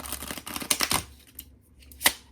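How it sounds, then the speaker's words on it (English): A deck of oracle cards is shuffled by hand: quick papery flutters and clicks in a short burst, a pause, then one crisp snap of cards close by. "One more shuffle, then I'll get your oracles."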